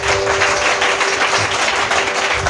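A church congregation at a Telugu service claps loudly and continuously, a thick wash of overlapping hand claps with no pauses and a thin steady hum beneath.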